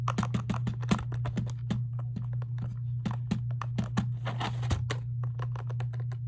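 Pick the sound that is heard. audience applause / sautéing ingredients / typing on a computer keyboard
typing on a computer keyboard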